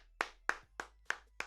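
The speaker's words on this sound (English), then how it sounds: "Clap it up for Tina." Five sharp hand claps at a steady pace, about one every third of a second, close and fairly quiet, with no voices.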